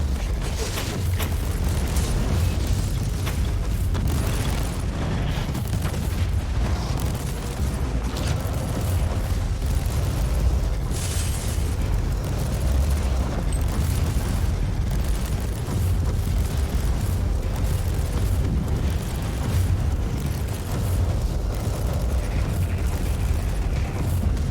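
A warp gate being destroyed in Warhammer 40,000: Inquisitor-Martyr, heard as a steady, loud wall of low rumbling, grinding mechanical roar and eruptive booms that carries on without a break.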